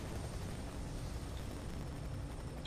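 A helicopter in the shooter game FEAR 3 gives off a steady low rumbling drone, continuous and moderately loud with no voices over it.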